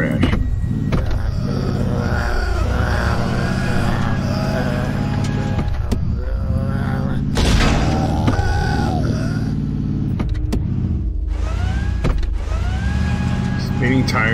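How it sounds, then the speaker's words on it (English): Car tires spin and whine in the Invasion 2037 video game, a continuous grinding, revving drone running through the whole stretch at steady volume, with a voice talking over parts of it. "Spinning tires."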